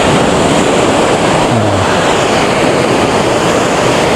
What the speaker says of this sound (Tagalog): Nakaka-relax talaga yung sound ng ano, ng alon